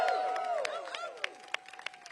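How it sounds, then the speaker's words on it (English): Audience at an outdoor Pride flag raising in Washington, D.C. clapping, the applause thinning into scattered individual claps amid crowd murmur. "Give them a big round of applause."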